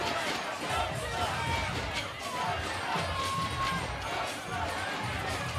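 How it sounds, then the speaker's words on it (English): A crowd at a 3x3 basketball game in Saskatoon cheers steadily, with a dense roar of voices holding level throughout while a commentator talks over it. "They got their own cheering section."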